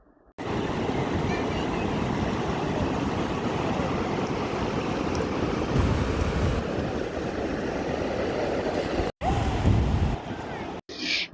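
Sea waves at New Digha beach in West Bengal, a steady broad roar of surf that continues almost without break, fairly loud and close, with a brief dropout near the end and no voices.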